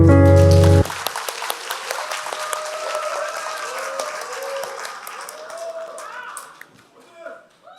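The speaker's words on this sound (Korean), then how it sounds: "김유솔 이장님 박수 부탁드립니다" An audience claps for a young village head from Wando at a rural basic-income coalition launch ceremony in Korea; a loud tonal burst opens, then scattered applause with voices mixed in, fading toward the end.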